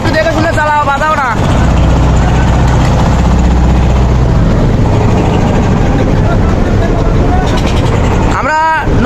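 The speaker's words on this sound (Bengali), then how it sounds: "আমরা নৌকা, ছোট নৌকা, ডিঙ্গি নৌকা আমরা নিছি মেশিনের" A small motorized wooden dinghy on the Kirtankhola river in Barishal, with a loud, close, droning engine chugging steadily through most of the stretch, framed by people talking at the start and end.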